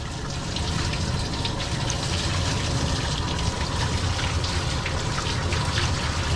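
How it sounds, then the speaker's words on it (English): Steady stream of water rinsing a matted dog's coat during grooming, a continuous close hiss and splash with no pauses. "Just rinse it."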